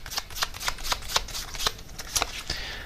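Tarot cards are shuffled and drawn close by in a quick, rhythmic series of crisp riffling snaps, with no talking.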